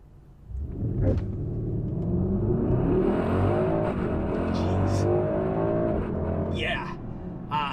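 Mercedes AMG GLS 63 with 603 hp launching hard from a red light: engine rumble swells into a rising, revving roar through several upshifts, heard from inside the cabin with people talking over it.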